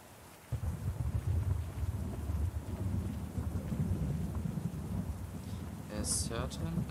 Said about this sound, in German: Warum wird der Regen stärker?